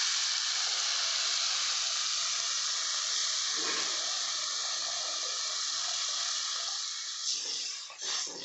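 Water poured into hot oil while cooking Maggi masala noodles sets off a steady, loud hiss of steam and sizzling. It fades slightly near the end, where a few clattering stirs break through.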